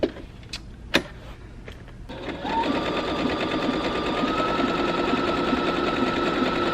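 After a few sharp clicks and taps, an automatic sewing machine starts up and hums along steadily at an even, rapid pace, stitching a demo seam at close range.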